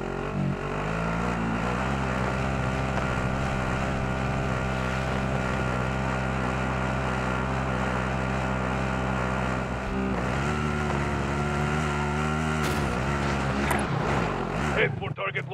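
A vehicle driving in the Call of Duty Warzone video game, with a loud, continuous engine roar that holds steady throughout and dies away at the very end.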